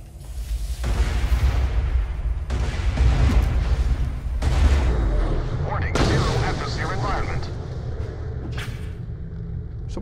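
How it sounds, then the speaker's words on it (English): Gunfire in the video game Borderlands: The Pre-Sequel comes as several heavy, booming bursts of shots with rumbling tails, loud and close, spaced a few seconds apart. "Someone shooting at me?"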